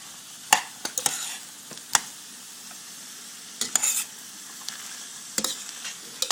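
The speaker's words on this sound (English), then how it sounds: "I'm going to raise my fire and just stir in the ingredients so that they marry well." Garlic, onions and shallot stirred in a pan over raised heat, a soft background sizzle punctuated by sharp scraping and clinking spoon strikes at irregular intervals, close and fairly quiet.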